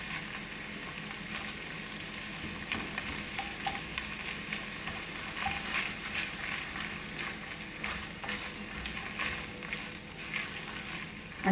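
Butter melting and sizzling in a pan while cooking vegetable pulao, a steady, soft frying crackle that holds throughout.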